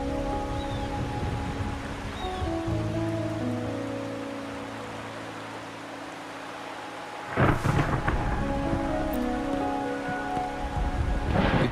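Thunder and rain in the video game Wuthering Waves, set in rainy Raguna: steady rainfall hisses beneath soft sustained music, then a sharp, loud thunderclap cracks and rumbles before the rain and music settle back in.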